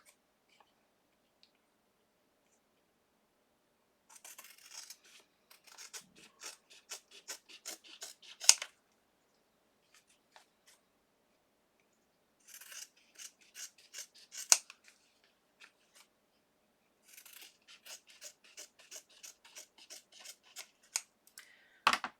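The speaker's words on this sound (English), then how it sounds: "I'm just going to try to use my fabric scissors. Just going to cut this down." Scissors snip through fabric in quick rhythmic runs of crisp cuts, three separate bursts with short pauses between, close and fairly quiet.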